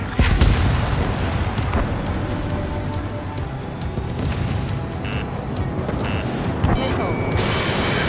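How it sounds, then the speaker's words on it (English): Missile launches and explosions in the Ace Combat 7: Skies Unknown jet combat video game form a loud, dense, continuous roar of booms and blasts with sharp bursts layered throughout. "Missile away."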